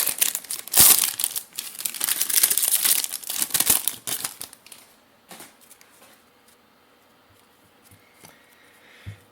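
A Bowman Draft baseball card pack wrapper is torn open and crinkled close up, with dense, loud foil crackling for several seconds, then sparse soft rustles and card handling as it quiets down.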